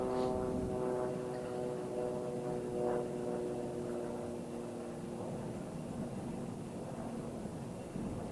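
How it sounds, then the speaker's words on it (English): Steady low engine drone of an airplane passing overhead on a cold snowy Minnesota winter day, with harmonic hum sustained throughout the clip and no talking. "there's a plane overhead."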